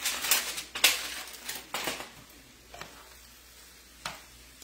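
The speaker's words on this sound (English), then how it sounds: "We're going to let it sizzle" Intermittent sizzling and crackling from sausage and cabbage frying in a hot pan with the lid off, with a few sharp clatters of a utensil against the pan early on, then quieter frying.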